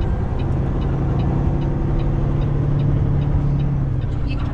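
Peterbilt 389 truck engine pulling in first gear, a steady loud low rumble heard from inside the cab with constant road and engine noise.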